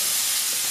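Chopped bacon sizzles in a small pot over medium heat with no added oil. The sound is a steady, soft hiss of frying fat, close and continuous through the brief moment, with no voices.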